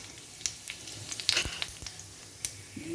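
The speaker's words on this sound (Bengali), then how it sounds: "প্রথমে জিরেটা ফোড়ন দিলাম" Cumin seeds tempering in hot ghee, scattered crackles and pops over a faint sizzle, quiet and close, with no talking.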